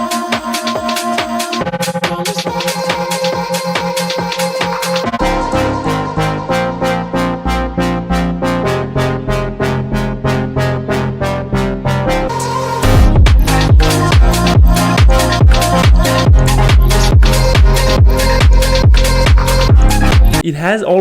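Electronic stutter house song with chopped rhythmic vocal and synth stutters that build into a loud, heavy bass-driven drop halfway through.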